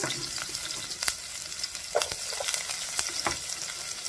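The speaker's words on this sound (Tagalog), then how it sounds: "Yan, mainit na ang kawali. Ilagay natin ang sibuyas." Chopped onion sautéing in a hot pan for Japanese tonjiru tuna and vegetable soup, a steady soft sizzle with scattered stirring clicks and utensil taps, close and moderately quiet, no voices.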